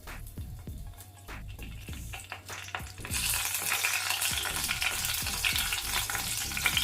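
Whole spices (cloves, cardamom, a cinnamon stick and a bay leaf) frying in hot oil, making a dense, steady crackle with stirring clicks. The sizzle swells louder and brighter about halfway through and continues with no voices.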